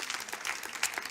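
A church congregation claps together during a New Year's Eve service, a short burst of dense, lively applause with a sharper swell near the end.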